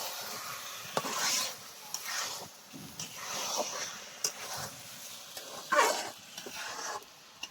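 A large rohu fish head being stirred and fried in a pan, with soft scraping and faint sizzling at a moderate, uneven pace and a few sharper clinks of the utensil.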